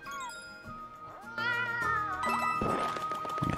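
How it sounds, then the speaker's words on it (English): A lost kitten meowing in the video game Bowser's Fury, with bright, high mews alongside chiming game jingles and tinkling effects, loud and close with no talking. "I found another one of the little lost kittens."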